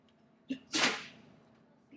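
A single sharp sneeze bursts out close by during a lecture, preceded by a brief short sound and followed by quiet.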